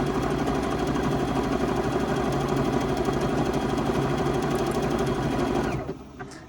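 A Juki G220 computerized sewing machine stitches a run of letters, running at a steady, loud, rapid mechanical rhythm, then stops abruptly near the end as the stitching finishes.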